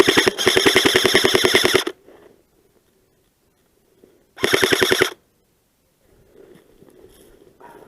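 Airsoft guns fire in rapid bursts during an outdoor game in the snow: a long sharp volley, a pause, then a second shorter burst, followed by faint shuffling.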